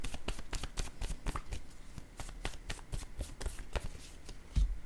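Playing cards are handled and laid down in a rapid, continuous run of crisp flicks and soft slaps, close and fairly loud, with no talking.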